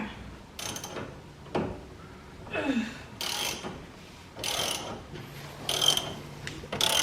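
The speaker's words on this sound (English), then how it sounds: "I've got the spanner to stop it from free spinning to be able to get this bolt off" Metallic ratcheting and clanking from a wrench working a bolt loose on a Honda Civic coilover while a spanner holds it from spinning, coming in several short, close bursts with quieter pauses between.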